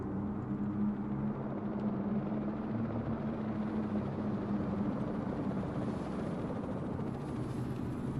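A helicopter in the MSFS 2024 flight simulator over a Puerto Rico scenic route, a steady low rotor drone and engine hum holding constant and fairly quiet throughout, with no talk.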